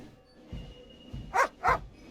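Two loud barks from a dog in The Return Of The Templars video game, close together near the end, after a few soft low thumps.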